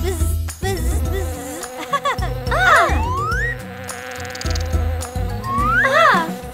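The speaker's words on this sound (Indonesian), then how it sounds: "Ah! Ah! Lebah!" Cartoon bee buzzing in a children's animated song, wavering rising and falling buzz tones over bouncy music, close and fairly loud with brief vocal exclamations.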